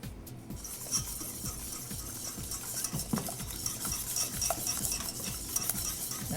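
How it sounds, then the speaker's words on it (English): A whisk beats ingredients in a bowl in quick, regular strokes, close and moderately loud, with faint clinks against the sides and no voices. "we can add them one by one as we're whisking this"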